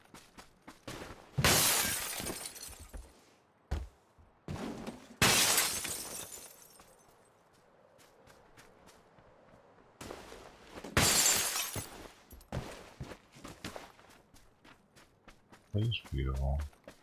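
Glass shattering in the video game PUBG, several loud crashing bursts spaced a few seconds apart, with quieter rustling and steps between them and a brief thump near the end.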